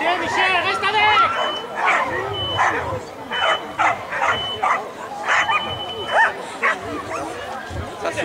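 Dog yips, whimpers and short barks in a busy outdoor setting, with people talking over and between the excited vocalizations throughout.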